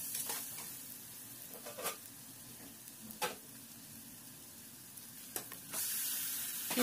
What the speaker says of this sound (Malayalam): ഇനി കുറച്ച് ചിക്കൻ മസാലയും കൂടി ആഡ് ചെയ്യുക നല്ലൊരു ബ്രൗൺ കളർ ആവുന്നവരെ വഴറ്റുക